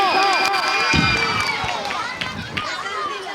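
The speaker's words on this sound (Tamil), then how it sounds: "ஓணம் குழந்தைகள் கைத்தட்டல் பத்தலைங்க" Children at an Onam school celebration cheering and shouting with scattered clapping, a lively, loud crowd of young voices close by, fading slightly toward the end.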